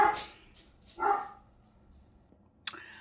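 A dog barks a couple of times nearby at a honking car horn, followed by a quieter pause and then a short high yelp.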